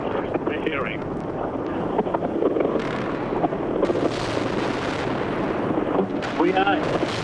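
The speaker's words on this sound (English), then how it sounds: "And another explosion we're hearing." Bombing attack on Baghdad during the Iraq War: distant explosions rumble and thud against heavy wind noise, with someone talking over the continuous background roar.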